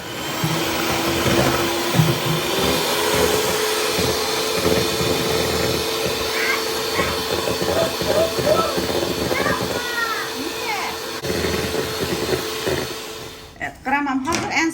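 An electric mixer whips liquid cream in a home kitchen, with a steady loud whirring drone throughout and a person talking over it.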